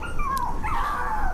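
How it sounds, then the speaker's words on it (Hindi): A dog's cry heard as a sound effect in a Hindi horror story set near a river: a single drawn-out whining yelp that sweeps in pitch, over a low background hiss. "वो कुत्ता तो कुछ दूर जाकर फिर से भौंकने लगा"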